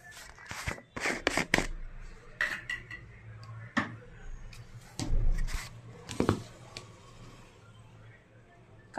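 Fried potato pieces tossed with salt and chilli powder in a bowl, giving scattered clinks and scrapes against the bowl in short irregular bursts, fairly quiet, with no talk.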